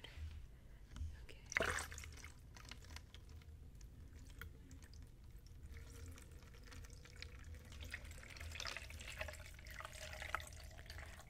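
Water pours and trickles into a container for a Barbie Color Reveal doll unboxing, a soft continuous liquid splash with occasional drips and handling noises, recorded close and quiet with no talk.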